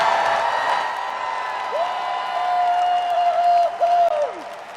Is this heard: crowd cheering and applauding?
yes